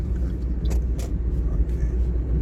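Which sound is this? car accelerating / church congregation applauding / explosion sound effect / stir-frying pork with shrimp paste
car accelerating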